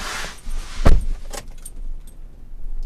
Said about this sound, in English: two full sets of keys